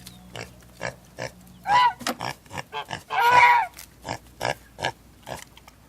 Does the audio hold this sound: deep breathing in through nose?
no